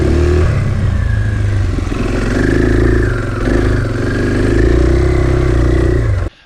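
KTM 500 enduro dirt bike engine revs up and down, loud and close, with a lumpy mid-range roar that holds for several seconds before cutting off abruptly.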